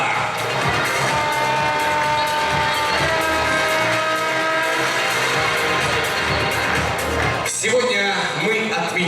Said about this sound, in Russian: Друзья, ваши громкие аплодисменты партнерам конкурса.